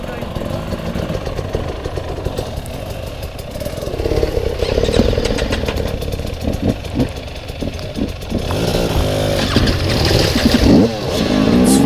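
Off-road motorcycle engine, ridden in Spain, idling and revving with changing pitch under nearby talk, getting louder toward the end.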